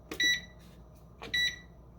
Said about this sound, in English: I'm going to set the timer for 18 minutes.